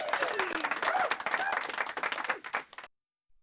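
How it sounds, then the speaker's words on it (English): An audience applauds at the end of a web-development class, with dense, steady clapping that fades out after about three seconds. "one more round of applause for everybody who's been in here"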